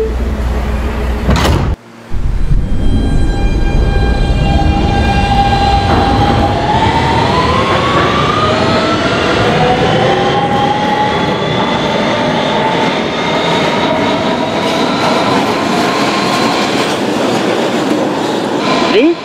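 A Roblox R160B Siemens subway train on the BMT Broadway Line: after a brief thump and gap, traction motors whine and climb steadily in pitch as the train accelerates, loud and continuous with rumbling wheels.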